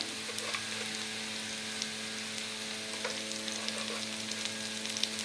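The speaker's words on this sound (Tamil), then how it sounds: "இஞ்சி பூண்டு விழுது பச்சை வாசம் போய் நல்லா வதங்கிருச்சு எண்ணெயில்" Ginger garlic paste frying in oil in a pan while chicken is cooked, giving a steady close sizzle with soft crackles and light stirring and no voices.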